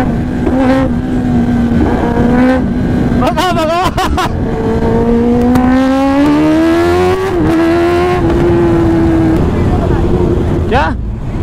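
A motorcycle engine at full power racing onto a highway, its loud droning note climbing steadily as the rider accelerates, with a brief burst of rapid revving partway through and heavy wind roar throughout.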